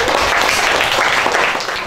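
Classroom applause for a student who answered correctly, a steady dense burst of many hands clapping together throughout, fairly loud and close.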